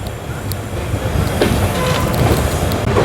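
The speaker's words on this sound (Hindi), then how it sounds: "ये शानदार कर्व से अभी हमारी ट्रेन निकलेगी" A passenger train runs through a curve near Gulzarbagh in Patna, giving a steady loud rumble of wheels and carriages with faint rail squeals and clicks, recorded from on board without talk.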